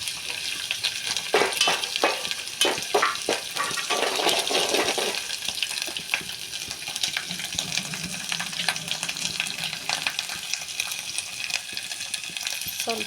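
Crushed chili spices are stirred in a hot frying pan: a steady close sizzle with a quick run of scraping, clinking strokes early on, then continuous frying hiss without talk.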